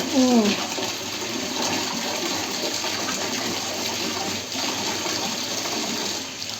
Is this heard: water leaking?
yes